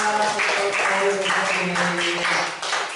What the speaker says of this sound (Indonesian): Kelompoknya dari Josephine, beri tepuk tangan yang meriah.